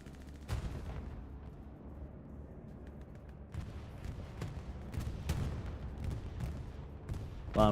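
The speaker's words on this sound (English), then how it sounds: "Bombing run comes in." Bombing run in a multiplayer war game scrim, with sharp gunfire cracks and booming explosions scattered near and far, bursts clustering toward the end over a low rumbling battlefield bed, no talk.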